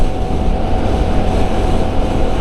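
A CF Moto NK 300 naked motorcycle on its stock exhaust gives a loud, deep, steady rumble with a dense low-frequency drone and no voices.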